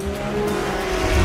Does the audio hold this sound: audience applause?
no